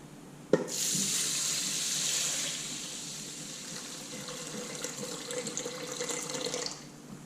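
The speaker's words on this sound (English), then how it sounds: "Then we're going to add our water." Tap water runs steadily into a pot for jasmine rice. A sharp knock comes first, then a continuous gushing stream that shifts slightly in tone as the pot fills, with no voices.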